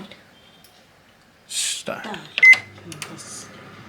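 Buttons pressed on a convection microwave oven being set to 180 °C, a few sharp close beeps and clicks in quick succession, mixed with people talking nearby.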